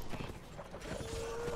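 Horse hooves clip-clop steadily under a loud battle soundscape while riding a Rohan horse in a Middle-earth mod of a Total War-style game, with muffled background voices.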